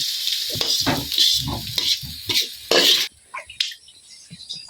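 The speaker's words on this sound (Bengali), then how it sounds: "আলু দিয়ে একটু বাজিয়ে লইতেছে" Potatoes fry in a pan at home with a loud, close sizzle that rises and falls as they are stirred, with occasional utensil scrapes and a quieter pause near the end.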